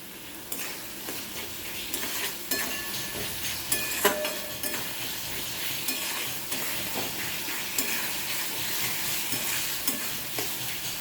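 Cumin powder and salt stir-fried in a pan with spices for a Bengali rohu fish curry with potato and pointed gourd: a continuous close sizzle broken by repeated sharp spatula scrapes and clinks against the pan.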